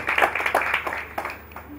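Scattered clapping from a modest audience at a stock exchange hackathon event, a few uneven bursts that thin out and fade within two seconds.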